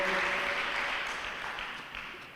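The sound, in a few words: applause in a church service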